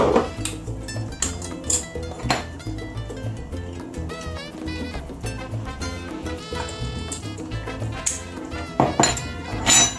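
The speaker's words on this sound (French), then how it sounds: "Et je remélange à nouveau mes carottes et mes pois chiches." Carrots and chickpeas are stirred in a pan with a spoon, giving repeated close metallic clinks and scrapes against the pan in an irregular rhythm throughout, with no talk.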